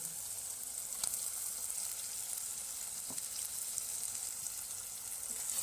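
Marinated prawns fry in an oily gravy for prawn biryani, giving a faint, steady hiss of sizzling oil with a couple of soft clinks of a utensil and no talking.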